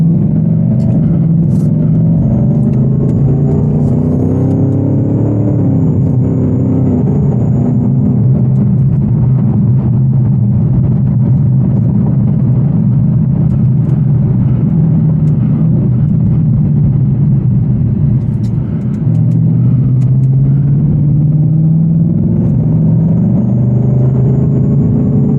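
A Whipple-supercharged 810 hp Shelby GT350 engine drones loudly and steadily throughout, swelling and easing as it accelerates on open road, with no one talking over it.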